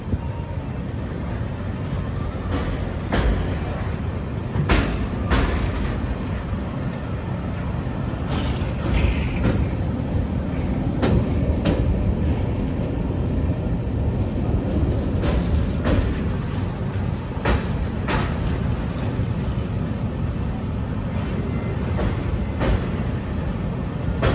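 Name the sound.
special passenger train running on the Kasganj–Aishbagh line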